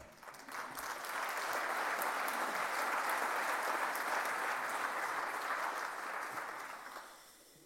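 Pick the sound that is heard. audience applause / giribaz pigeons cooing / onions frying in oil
audience applause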